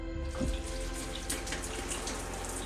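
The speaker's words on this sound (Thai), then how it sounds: "มีฝักบัว ฝักบัวลองดูน้ำนะครับ" A shower head runs in a mountain lodge bathroom in Bo Kluea, Nan, giving a constant close splashing rush of water that continues unbroken throughout.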